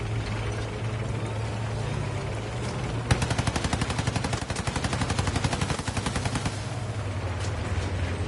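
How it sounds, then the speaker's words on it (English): A tank approaching in the video game Battlefield 6, its mechanical tracks clattering in a fast, even ratcheting rhythm that starts abruptly and runs loud for several seconds over a low engine drone, then fades back into rumble. "there's another guy with a tank coming"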